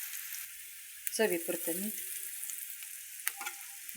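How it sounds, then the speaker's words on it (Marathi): Egg frying in oil in a pan gives a steady soft sizzle under a voice speaking briefly, with a few light clinks of a utensil stirring nearby. "चांगलं तेलात फ्राय करायचं."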